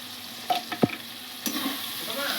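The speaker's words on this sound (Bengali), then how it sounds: "টমেটোর সঙ্গে সামান্য একটু ভেজে নেব" Green peas fry with tomato, turmeric and spices in a pan for vegetable dal, a soft steady sizzle broken by a few sharp spoon scrapes and clinks, close up with no talking.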